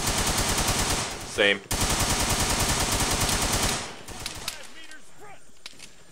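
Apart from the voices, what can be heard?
gunfire in video game ARMA 3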